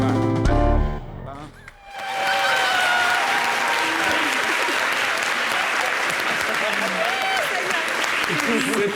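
Sustained applause from a live audience after an improvised slam performance on a French-language TV show, opening with a brief music and voice passage before dense clapping fills the rest, steady and loud.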